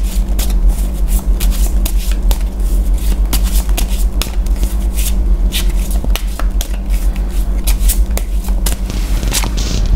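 Tarot cards being shuffled close up, with rapid riffling and flicking bursts that repeat in irregular clusters, loud and up front with no talk.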